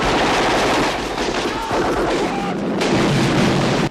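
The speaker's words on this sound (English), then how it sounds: "They're just shooting indiscriminately now." Heavy battle gunfire from the 1986 Vietnam War film Platoon, a loud continuous roar of rifle and machine-gun shots with explosions blended into a dense, sustained barrage.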